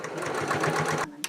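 A sewing machine runs steadily, stitching the seam of a fabric clutch wallet wrapped tightly over its card slots, then stops abruptly near the end with a brief click or two.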